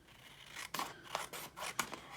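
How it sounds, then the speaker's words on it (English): Scissors snip through a paper card panel in about four quick, separate cuts, close and fairly quiet with no talk. "So I'm just going to take my scissors quickly"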